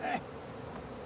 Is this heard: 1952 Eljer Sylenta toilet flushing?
no